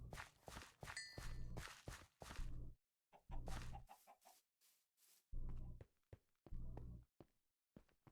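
Chickens in a modded Minecraft game cluck repeatedly in short bursts, with what sound like footsteps, close and fairly loud, with brief gaps between the bursts.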